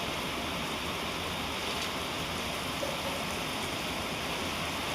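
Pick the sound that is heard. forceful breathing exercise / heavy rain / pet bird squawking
heavy rain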